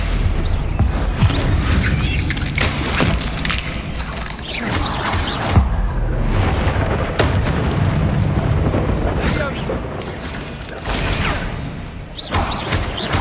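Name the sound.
Bombarda spell explosions from the video game Hogwarts Legacy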